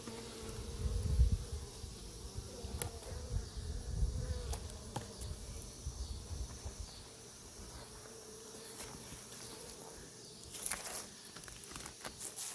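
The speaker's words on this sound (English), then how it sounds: "there's maybe one good solid frame of bees at the moment" A steady, faint hum of honey bees buzzing around a swarm trap outdoors, several insects droning continuously at low volume with no talking.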